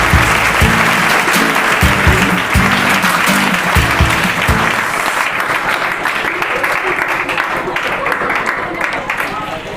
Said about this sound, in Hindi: जोरदार तालियां करती हैं।